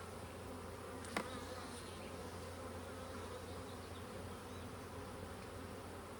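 Agitated bees buzz in a continuous, fairly faint drone through the whole stretch while queen-rearing frames are readied, with one sharp brief click near the start.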